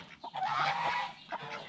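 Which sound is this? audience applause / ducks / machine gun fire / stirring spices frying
ducks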